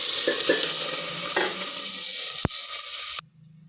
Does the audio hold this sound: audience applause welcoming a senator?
no